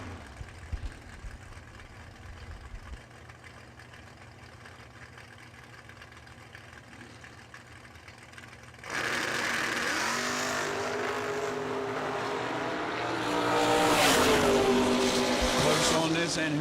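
A '63 Chevy II and a '68 Chevelle sit at a drag strip, idling low at first, then a sudden loud burst of engine roar rises and swells toward the end, with an announcer talking throughout.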